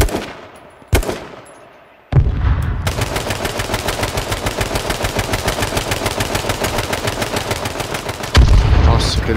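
Gunfire in the video game H1Z1: two isolated loud shots come first. Then a long, rapid automatic burst of evenly spaced shots rattles on for about six seconds, followed by a heavier final volley.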